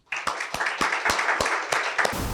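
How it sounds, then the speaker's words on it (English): A round of applause from a small group at an awards dinner, steady clapping with a few sharper claps standing out, fairly close and loud throughout. "I would like to give him also a round of applause"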